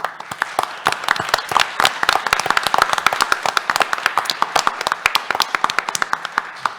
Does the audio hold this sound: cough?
no